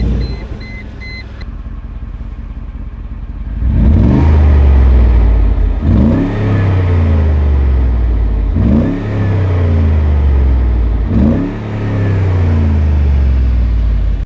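Mercedes G500 G-Wagon with factory AMG exhaust and a 2-inch lift starts up and settles into a rumbling idle, then gets four strong revs at regular intervals, loud and close with no talking.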